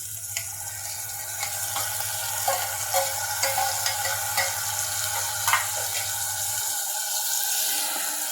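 Tomatoes frying in one pot for pav bhaji, a soft watery sizzle with occasional stirring clicks and scrapes over a low hum that cuts out near the end.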